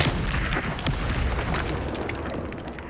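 A Confringo spell goes off in a wizard video game as a loud, close, rumbling boom with crackling bursts, holding strong for about three seconds before slowly tapering.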